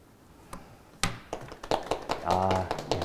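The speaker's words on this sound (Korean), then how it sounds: "어색한 박수 너무 감사합니다" Awkward applause from a small audience at a socially distanced Korean youth workshop in Daejeon: a few scattered claps that build into a brief, thin round of clapping, with a voice murmuring under it.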